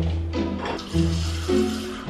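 Tap water runs from a kitchen faucet into a drinking glass in a home kitchen, a steady close pour with small shifts in pitch as the glass fills, heard alone without talk.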